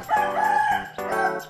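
A rooster crows loudly and nearby, two drawn-out cock-a-doodle-doo calls in quick succession.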